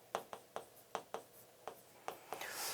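Pen strokes on paper or a board during a lecture on network models: a quick series of about nine short scratchy strokes in an uneven rhythm, close and fairly quiet, with no talking.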